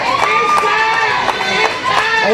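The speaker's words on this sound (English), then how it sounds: "And you hear the crowd tonight" Wrestling arena crowd at a live NWA match, a loud continuous roar of cheering and shouting with scattered sharper yells throughout, close and filling the space.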